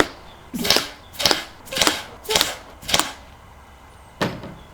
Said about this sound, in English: so to really make sure blowgun darts can't do that, I'm gonna shoot a bunch of them.